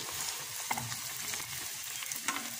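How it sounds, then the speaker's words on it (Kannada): Rolled Mangalore buns fry in hot oil in a pan, a steady close sizzle with small crackling pops throughout, no voices. "ಎಣ್ಣೆ ಕಾದಿದೆ ಇವಾಗ ಹಾಕ್ತಾ ಲಟ್ಟಿಸಿರುವ ಬನ್ನನ್ನು ನೋಡಿ"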